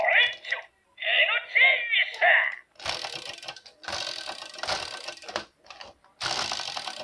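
A Zyudenchi toy battery, Dino Chaser, plays its electronic sound effect through a tiny toy speaker: a bright, tinny synthesized jingle of short bursts, then harsher buzzing, crackling electronic blasts separated by brief gaps.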